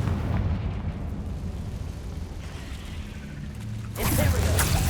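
A Confringo fire spell from the video game Hogwarts Legacy strikes and bursts into a sudden, loud, booming explosion near the end, after a stretch of lower rumbling game noise.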